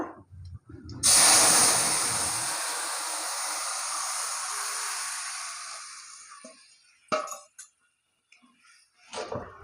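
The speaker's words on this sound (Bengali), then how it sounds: "এবার তরকারিটা ঢেলে দেবো" Papaya and chana dal curry poured into a pan of fried greens bursts into a loud hiss that slowly fades over several seconds, followed by a few clinks of a utensil against the pan.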